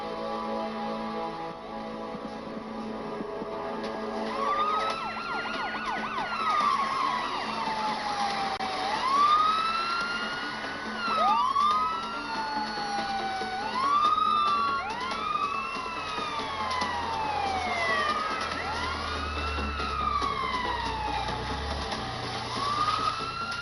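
An ambulance siren wails in repeated rising and falling sweeps, steady and moderately loud, with a low rumble of traffic underneath.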